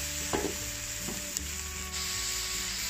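Chicken slices with three colours of capsicum being stir-fried in a pan with a splash of water, a steady sizzle with a couple of soft scraping stirs near the start.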